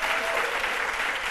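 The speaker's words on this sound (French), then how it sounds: "qu'on applaudit très très fort" A studio audience applauds loudly and steadily for Méliane Cuny on a TV talk show, dense clapping held at an even level throughout.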